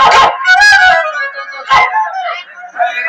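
A dog close by lets out loud, drawn-out howls mixed with sharp barks and yips, several bursts in a row.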